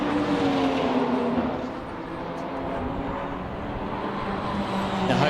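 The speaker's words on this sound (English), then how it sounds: "Andrew Medicki on full noise coming into pit lane there" Race car at full throttle entering pit lane during a Shannons Trophy Series race at Sydney Motorsport Park, a steady loud engine roar with a slight dip in the middle before swelling again.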